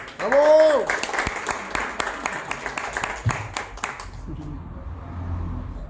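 Audience at a reading circle in Puebla claps in a short burst, sharp individual claps under a loud shout and cheering at the start, fading out after about four seconds into quiet room tone and faint traffic.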